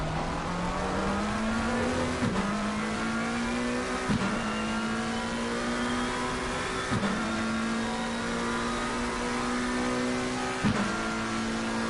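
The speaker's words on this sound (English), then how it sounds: "Tim McKenzie from South Australia. All over him in the McLaren" McLaren GT3 race car engine in a sim racing game, revving steadily through the gears with a sharp drop at each upshift, about four shifts, loud and continuous with no talk over it.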